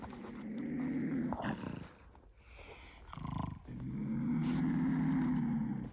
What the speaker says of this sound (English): He's over here growling and hissing.